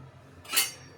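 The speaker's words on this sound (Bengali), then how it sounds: "সামান্য একটু লঙ্কাগুলোকে নেড়ে নিয়েছি" Dried red chillies tossed in a hot kadai (wok), a single scraping clink of a metal spatula against the pan swelling and fading over about half a second, close and clear above a low background hum.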